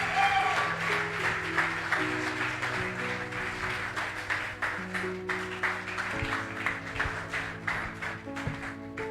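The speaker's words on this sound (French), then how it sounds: "nous allons l'accueillir par des acclamations" Church congregation applauding as a pastor is welcomed, sustained clapping over held keyboard chords, turning into a steadier rhythmic clap toward the end.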